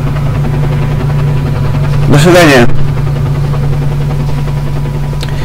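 Helicopter in the video game Stalker: Call of Pripyat, a steady low rotor and engine hum running throughout beneath a man's spoken farewell, with a brief louder burst partway through.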